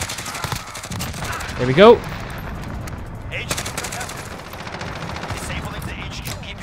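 Bursts of automatic gunfire in Call of Duty: Modern Warfare as a player shoots through a wall, loud and clustered early, then trailing into scattered shots, with someone speaking briefly over the action.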